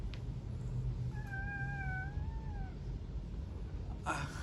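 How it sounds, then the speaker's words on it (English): A cat meows once for attention, a clear rising-and-falling cry of about one and a half seconds over a steady low background hum, indoors and fairly near, with a brief rustle near the end. "I got a cat that wants more attention."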